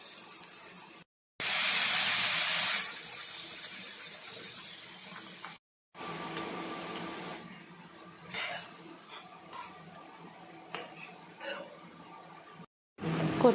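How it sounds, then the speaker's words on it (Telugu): Cooked dal poured into a hot tempering for amaranth dal, a loud burst of hissing sizzle that fades into softer bubbling and occasional stirring clinks, close by. "తాలింపు రెడీ అయిపోయింది. ఇప్పుడు పప్పు పోసేసుకుందాం."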